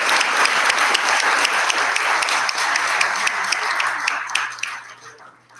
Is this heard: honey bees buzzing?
no